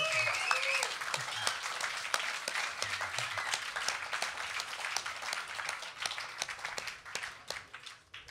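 An audience at a lecture event gives sustained, dense applause that keeps a steady level for about eight seconds before tapering off at the end, with a few voices faintly mixed in.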